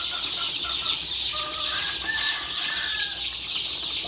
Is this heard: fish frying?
no